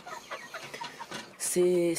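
Chickens in a henhouse housing about thirty-four birds on three perches: soft scattered clucks and shuffling, then a louder, sustained tonal squawk near the end, close by.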